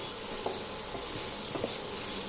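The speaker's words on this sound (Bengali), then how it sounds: "এবার চিংড়ি মাছগুলো আমি মশলার সঙ্গে কষিয়ে নেব।" Prawns sautéed with spices in a pan, a steady close sizzle with a few soft stirring scrapes and clinks, no talking.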